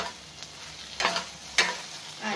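Ash gourd stems fry in a pan in a Bengali kitchen, a low steady sizzle broken by two or three brief scraping stirs, close and moderately quiet.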